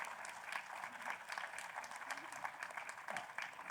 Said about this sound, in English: Can we have another big round of applause for Subi?